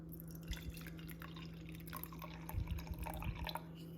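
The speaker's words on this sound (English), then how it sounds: "So now that we have them in there, we're just gonna add a little water." Water is added to a jar of cucumber seeds being fermented, faint dripping and trickling splashes coming in small bursts over a low steady hum, quiet and close with no talking.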